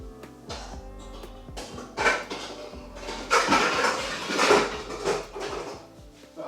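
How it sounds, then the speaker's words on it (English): A cooking pan is pulled out and handled in a home kitchen, with metallic clanks, knocks and rattles of pots and utensils close by, continuous and fairly loud, without speech. "So what we shall do is we'll get a pan."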